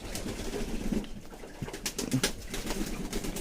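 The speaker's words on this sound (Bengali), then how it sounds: "যাদের স্নান হয়ে গেছে তারা ডানা ঝাড়ছে" Pigeons after a bath shake their wings in quick flurries of flapping and rustling, mixed with soft cooing nearby, irregular bursts over a busy background.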